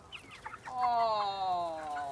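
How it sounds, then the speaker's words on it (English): Meat chickens on a farm give a few short clucks, then a drawn-out, wavering call that sounds close and fairly clear over a quiet background. "These are only meat chickens."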